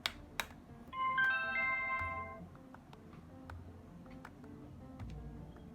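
A phone chimes with a notification from a Xiaomi smart video doorbell, a short bright tonal melody of a few stacked notes over a quiet room with faint taps and clicks.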